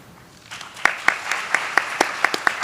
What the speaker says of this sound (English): Ladies and gentlemen, another round of applause for our panelists this morning.